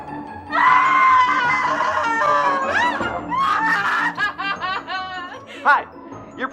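A woman screams in a comedy sketch: a long, loud, high-pitched shriek that breaks into a series of shorter, choppy wails and yelps, heard up close with no other talk.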